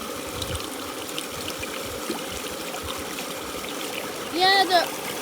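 A homemade water fountain splashes and trickles in a steady, continuous wash, with a voice speaking briefly near the end.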